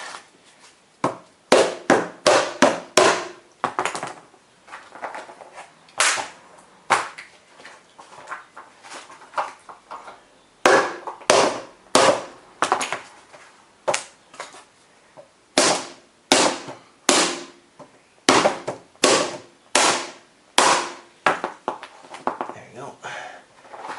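A hammer strikes metal clips on the leaf spring of a 1968 MGC in sharp, ringing blows, arriving in rapid clusters of several hits separated by short pauses, loud and close.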